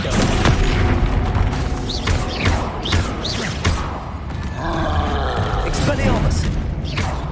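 The Descendo spell is cast in the Hogwarts Legacy video game, producing heavy booming impacts and crackling effects in quick succession, with a voice calling out over the loud, busy combat.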